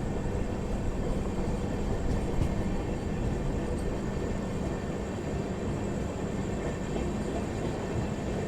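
Kriya Yoga Express train running, a steady loud rumble and roar of rolling stock on the Howrah to Ranchi line, continuous and close with no voices.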